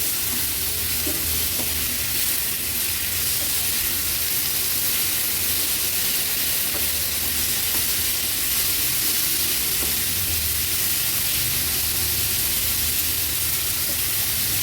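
Two large chopped tomatoes with salt are stirred in a hot pan, making a steady, even sizzle and hiss that runs unbroken for the whole stretch, with no talking.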